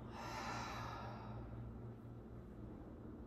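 A long, deep exhale during a yoga breathing exercise, a breathy rush that is strongest at the start and tapers off over about three seconds, close and alone.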